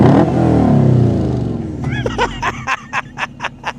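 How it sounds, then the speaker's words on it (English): Off-road Baja Beetle engine: a loud idle rumble, then a series of sharp, close revs in quick rhythmic bursts, with people murmuring in the background. "can you just rev it up for us"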